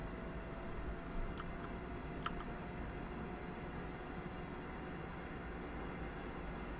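Train in the Train Simulator video game running at night on the East Coast Main Line: a steady low rumble and drone of the moving train, constant and unbroken, with faint clicks near the start and no talk.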